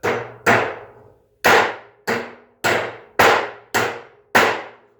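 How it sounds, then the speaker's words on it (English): A heavy 28-ounce Vaughan hammer with a wooden handle drives nails in eight sharp, ringing blows, close and loud, in an uneven rhythm with a brief pause after the first two strikes. "Figured I'd throw this one in here, drive a couple nails with it."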